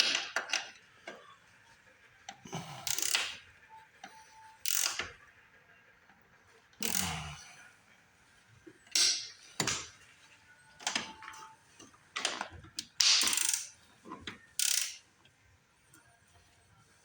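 A ratchet tightens bolts on the power disc brake conversion of a 1968 Camaro, its clicking coming in short, close bursts separated by pauses.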